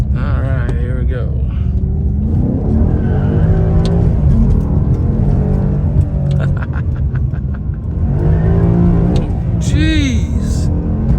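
A 2005 Maserati GranSport with its 4.2-liter Ferrari-derived engine drives hard, revving loudly with rev-matched blips and rising, falling engine tones heard from inside the car, with brief voices over the roar.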